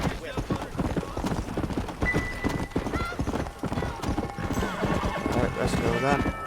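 Horse hooves clip-clop at a steady gallop with a whinny in the Red Dead Redemption video game, loud and continuous alongside gunfire-like game sounds and someone talking over it.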